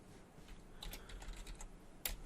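Faint, quick keystrokes on a computer keyboard patter in an irregular burst, with one sharper key tap near the end, heard alone without speech.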